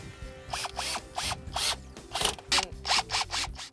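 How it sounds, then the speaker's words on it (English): A power drill drives screws to fasten fabric into a windshield channel, heard close as repeated short bursts of whirring motor, each spinning up and stopping in a stuttering rhythm. "you just need to drill the fabric into the windshield channel"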